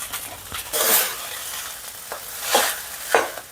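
Ingredients are stirred into very hot oil where curry leaves have browned, and they fry with a crackling sizzle that swells in bursts with each stir, close and fairly quiet, with no voices.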